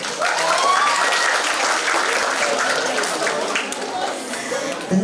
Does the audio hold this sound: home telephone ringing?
no